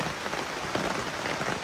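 Rain patters steadily on a pop-up camper at a lakefront campsite, a dense, even drumming with no voices.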